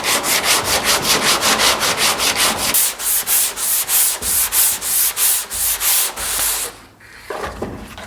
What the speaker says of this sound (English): I'm not going to bore you guys with a bunch of sanding